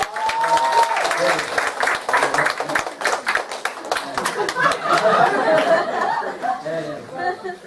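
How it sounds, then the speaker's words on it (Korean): A church congregation at a Sunday worship service breaks into steady, loud applause lasting several seconds, mixed with chatter and scattered laughter. "우리 박수 한번 치겠습니다"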